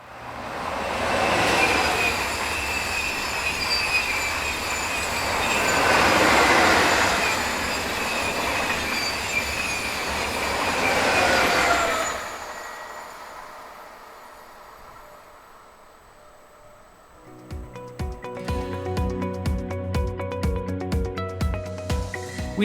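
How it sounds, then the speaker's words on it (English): Two coupled French TGV sets on a Paris to Zurich service pass at speed in Switzerland, a loud swelling rush with wheel squeal, followed by a quieter gap and then rhythmic clickety-clack of another train over the rails. "French TGV sets numbers 4730 and 4722 are seen on this Paris to Zurich working."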